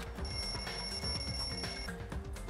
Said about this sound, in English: The lounge's wall clock alarm started ringing at 5:30.